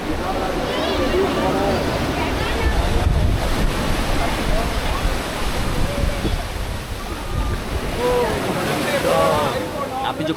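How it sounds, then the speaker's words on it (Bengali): Loud, continuous surf and wind roar along the beach at Maya Bay, Thailand, with people's voices and chatter mixed into the wash of the waves. "এই যে সমুদ্রের যে আওয়াজ পানির যে আওয়াজ"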